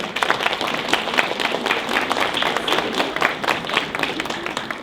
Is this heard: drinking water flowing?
no